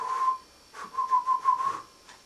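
Toy steam engine whistle in the Thomas children's show: one short toot, a pause, then a longer wavering blast, clear and close with no talking.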